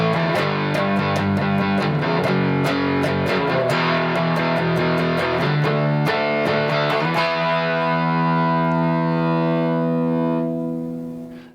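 Electric guitar from a budget makeover, its new pickup driven into distortion, strums gritty chords in quick succession, then lets a final chord ring out and slowly fade, loud and close with no talk.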